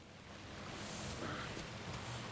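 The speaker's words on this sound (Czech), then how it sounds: "ještě to začalo pršet" Steady rain falls in the video game Alan Wake 2, a soft, even hiss of drops that stays low and faint throughout, with no other sounds standing out.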